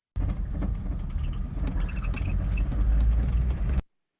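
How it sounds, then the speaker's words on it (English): Road traffic in Kenya rumbles continuously, with a broad low engine drone and passing-vehicle hiss that swells slightly toward the end, heard close and without talk. "Also in Kenya, we also have traffic that we deal with."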